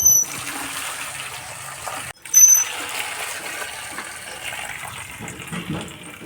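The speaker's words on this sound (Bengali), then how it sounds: "চলুন এগুলোকে ধুয়ে ফেলি, ধুয়ে রান্নার জোগাড় করি।" Freshly caught puti fish being washed in water, with soft splashing and trickling, a brief louder splash partway through, then quieter sloshing and dribbling close by.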